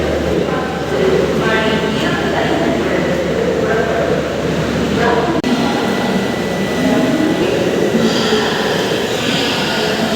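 A fully reserved passenger special train from Chennai Egmore with new 2024-built coaches rolls along, giving a steady loud rumble of wheels and carriage noise throughout.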